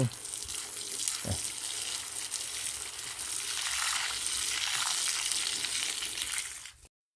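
Water poured into a hot pan, hissing and frying in a broad, steady sizzle that holds strong for several seconds before cutting off abruptly, with a few clanks of utensils early on.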